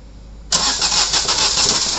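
A Maruti Suzuki WagonR engine with a head gasket fault cranks on the starter and abruptly catches, roaring loudly up close and then settling into a rough, steady run.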